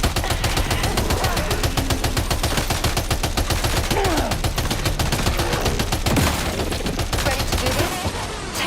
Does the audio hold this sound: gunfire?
yes